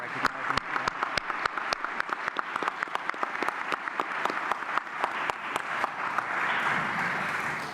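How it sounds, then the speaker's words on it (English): Applause from the audience at an ethics prize symposium, with several distinct, close hand claps standing out rhythmically over a softer, steady crowd clapping that carries on throughout. "I would really like you all to join me in applauding her and recognizing"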